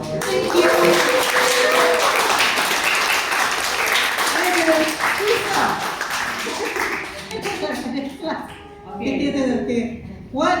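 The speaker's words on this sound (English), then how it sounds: "Can we give a round of applause for her?" An audience claps after a talk on the history of Lake Gardens in Kuala Lumpur, a modest round of applause running under voices before fading out.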